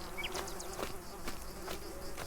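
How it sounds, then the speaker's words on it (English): Insects buzzing and swarming in an attack inside a video game, a steady close hum of wasps with no talk over it. "Why are you being attacked by wasps? The wasps are crazy today."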